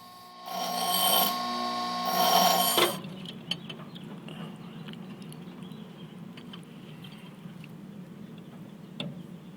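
A British sports car owner files a thin open-ended wrench thinner during a clutch restoration, the steady rasping strokes loud at first for about three seconds, then giving way to quieter tapping and handling noises.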